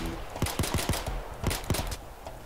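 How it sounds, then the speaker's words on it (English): Gunfire rings out in the heist video game Payday 2: a quick string of four sharp shots, a short pause, then another close cluster of three or four, loud and punchy over a low background. "I'm busy shooting."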